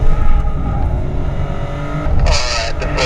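A BMW 750i with the Autobahn package lapping a track gives a loud, steady engine drone that swells near the end with a sharp burst of tyre and wind noise. No one speaks.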